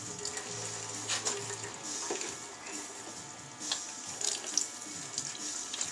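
Liquid running steadily from a brew kettle valve during an electric all-grain brew day, a continuous trickling flow with a few light clinks and knocks, fairly close.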